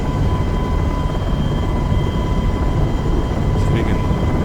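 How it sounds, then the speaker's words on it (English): A helicopter flies in the Flight Simulator X game, with a loud, continuous engine and rotor drone that holds steady throughout, plus a faint high whine. "So we can slow this helicopter down because we're going a little bit fast"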